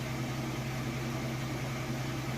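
A Whirlpool washer in excellent condition runs quietly and balanced, giving a steady, even low hum and soft broadband whir with no wobble or knocking, alone and without speech.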